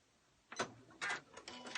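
A sewing machine stitches a scarf in short, whirring bursts of a few tenths of a second each, separated by brief pauses, fairly quiet and close, with no talking.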